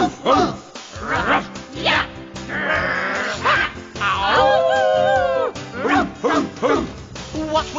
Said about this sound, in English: What are they after? Why do they bark?